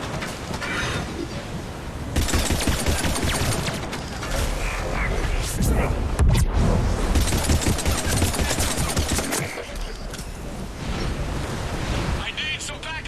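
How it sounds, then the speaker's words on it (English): Rapid gunfire and booming blasts from Mass Effect 3 combat, continuous dense bursts that swell and ebb, with a game voice speaking over the battle. "Commander, I've got enemy contact. Under fire."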